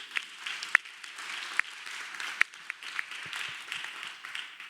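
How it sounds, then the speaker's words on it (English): Audience applause closing a symposium talk, a soft, steady wash of clapping from a crowd heard at some distance, with a few sharper individual claps standing out. "please, your round of applause is most welcome."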